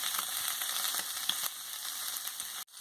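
Soft boiled potato tikkis fry in a pan, giving a steady, close sizzle with small crackles that cuts off abruptly near the end.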